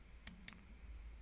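Two quick, faint computer mouse clicks close together, each short and crisp over a quiet low hum.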